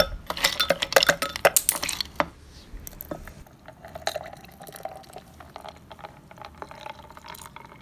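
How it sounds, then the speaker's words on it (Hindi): Ice cubes drop and clatter into a blender jar of lychee milkshake, a rapid run of hard clinks and knocks up front, then softer scattered taps and sloshing liquid. "अब इसमें हम डालेंगे आइस क्यूब"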